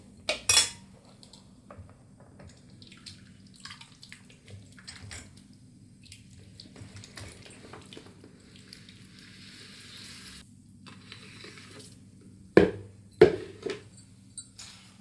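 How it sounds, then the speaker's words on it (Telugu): Lemon pieces for pickle are mixed into a tempering, with a quiet low rumble and a few sharp metal clanks of a spoon against the pot, loudest near the start and twice near the end. "ఈ నిమ్మకాయ ముక్కలన్నీ ఈ పోపులో కలుపుకోవాలి"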